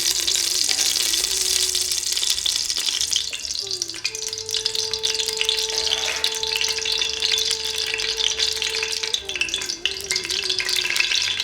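Oil heating in a pan for Awadhi mutton korma gravy, a continuous bright sizzle and crackle at close range with a faint sustained tone running underneath.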